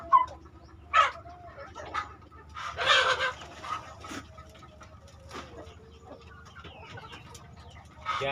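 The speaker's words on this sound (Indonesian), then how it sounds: "sudah mulai dicakar-cakar oleh ayam" Chickens cluck in short, scattered bursts while scratching through organic feed of mung beans, vegetables, pulp and coconut husk at an organic feed bank, with a few louder calls near the start and end and quiet stretches between.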